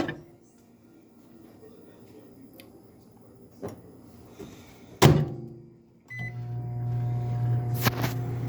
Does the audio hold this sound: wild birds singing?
no